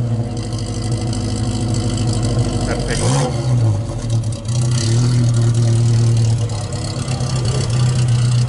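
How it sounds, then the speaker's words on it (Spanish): A 1970s Seat 131 L saloon with a 1430 fuel-injected engine, recorded near the exhaust pipe: a steady, rumbling idle broken by one sharp rev blip that falls back, then settles into a firm idle again. "Y ahora vamos a grabar lo que es el tubo de escape."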